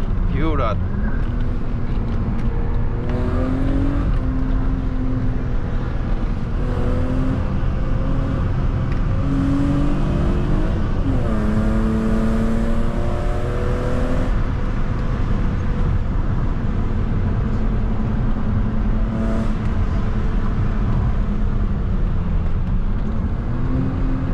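A BMW E36 320i coupe drives hard along a curvy road, its engine droning loud and steady inside the cabin, revs climbing and dropping through repeated gear changes, with heavy road and wind rumble throughout.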